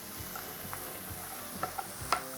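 Grated carrot and beetroot fry quietly in a pan for a vegan Wellington, a soft sizzle under light, scattered stirring taps and clicks, with no voices.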